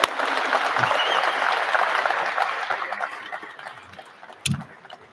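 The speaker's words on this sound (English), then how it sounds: "another round of applause for Ethan Belcher." A press-conference crowd applauds hockey draft pick Ethan Belcher, a loud sustained burst of clapping that gradually thins and fades, ending with a few scattered claps and a brief bump of noise.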